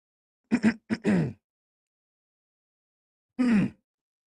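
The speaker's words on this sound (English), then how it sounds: "Just clear my throat." A few short throaty hacks and rasps, a quick cluster followed by one more after a pause, close and fairly quiet with silence between.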